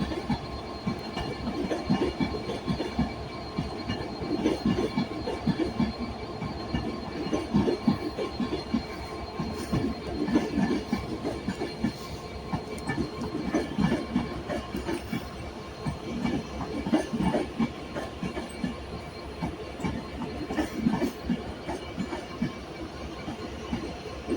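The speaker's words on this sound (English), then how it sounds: "Wolverhampton West Coast 390-121 in the climate change livery, heading from London Euston to Edinburgh Waverley" A Class 390 electric passenger train in climate change livery, running from London Euston to Edinburgh Waverley on the West Coast Main Line at Carlisle, passes with a sustained rumble, rhythmic wheel clatter and light squeal.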